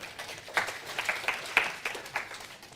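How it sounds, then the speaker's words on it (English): Sparse, faint clapping from a small lecture-hall audience in a university class, a handful of separate hand claps heard at a distance against a quiet room. "Give him a round of applause, people."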